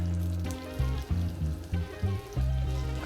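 Red onions frying in extra virgin olive oil, a close, steady crackling sizzle with low rumbling bursts that come and go as the pan is worked.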